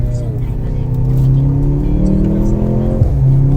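Mercedes-AMG C43 wagon (W206) on snow tyres in S+ mode, engine droning and revving under acceleration with low exhaust burble, heard from inside the cabin.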